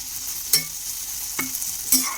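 Frozen green peas and ginger sautéing in hot oil for wheat-flour matar kachori filling: a steady, close sizzle with three sharp spoon strikes against the pan as the mixture is stirred, no voices.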